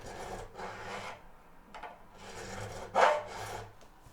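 Cloth rubbing along a guitar fretboard in several rasping back-and-forth swipes, each lasting about half a second with brief pauses between, close and fairly quiet, the strongest stroke near the end.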